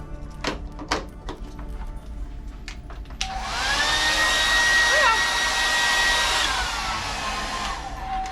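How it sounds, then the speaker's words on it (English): Hairdryer in a Navigator of the Seas cruise cabin switched on after a few knocks and clicks, blowing with a steady whirring roar and a whine that shifts in pitch, close and loud. "the other one had your hairdryer. How powerful is that?"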